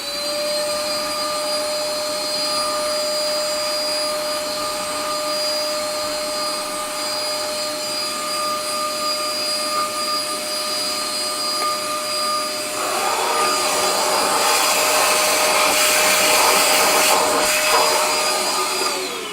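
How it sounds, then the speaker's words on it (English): A vacuum cleaner runs on a Gottlieb pinball machine, clearing off dust with a steady loud motor whine and airflow hiss that turns rougher and louder near the end as it works the surface. No talking. "Might as well just get the vacuum out. Vacuum that off right away."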